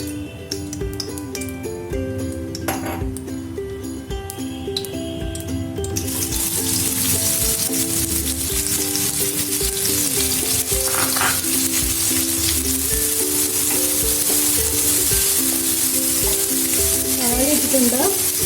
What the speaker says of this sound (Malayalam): ഇനി കുറച്ച് ഓയിൽ ഒഴിച്ചതിന് ശേഷം നമുക്ക് സവാളയെല്ലാം വഴറ്റിയെടുക്കാം.